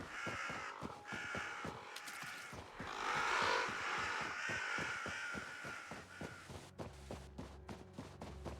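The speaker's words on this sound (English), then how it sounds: "Crows flying with us as we run." Crows caw in REKA, harsh calls repeating near and far over quick running footsteps and a soft outdoor ambience, with no talking in the scene.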